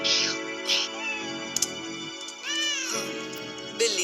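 A cat gives several meows, some drawn out and rising, loud and close, with brief bright noises between calls.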